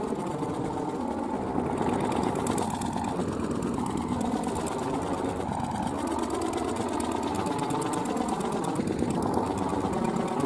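Several tiller machines churn steadily while cutting a water channel through farmland, with a continuous chugging engine drone and overlapping rattling from the multiple machines working at a moderate distance.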